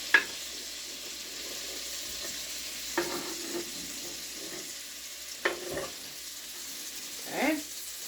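Green pepper, onion and tomatoes sizzling in a pan, a soft steady sizzle broken by a few sharp stirring scrapes and clatters.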